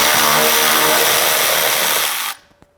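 A power driver with a 7mm socket spins out a dash speaker screw in a Nissan Xterra, one continuous loud whirring burst that cuts off sharply near the end, followed by a few faint clicks.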